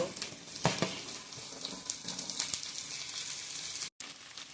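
Okra for a Gujarati bhindi sabzi hitting hot oil, giving a bright, steady sizzle close up with scattered crackles and a brief cut near the end.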